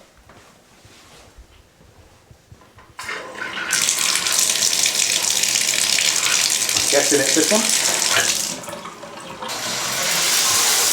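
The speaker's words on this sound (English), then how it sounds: "Very good shower pressure." Hotel shower in a boutique hotel in Houston switched on to test water pressure: after a quiet start, a loud, steady hiss of spraying water bursts in and runs continuously, dipping briefly before resuming at full strength, with someone speaking briefly early on.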